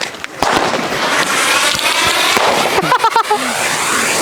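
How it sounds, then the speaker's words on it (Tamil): Small sky shot firecrackers burst outdoors in a quick run of sharp pops and crackles, with a denser crackling cluster near the end. "ஸ்டாண்டர்ட்ல இருக்கக்கூடிய ஸ்கை ஷாட் பா."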